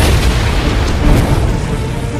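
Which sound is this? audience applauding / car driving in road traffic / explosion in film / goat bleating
explosion in film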